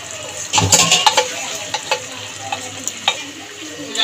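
Matar dal being stirred into pumpkin greens in a pan, a spoon knocking and scraping in several distinct clatters over a soft background sizzle, close by and without speech.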